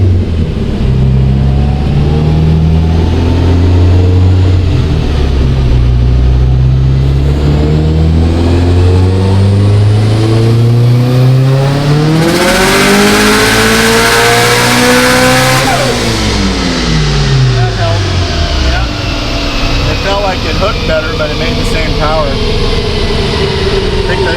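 A 2005 Subaru STI engine runs hard on a dynamometer, its loud note sweeping up through the gears in rising harmonic bands before dropping off around the sixteen-second mark, then settling into a lower drone.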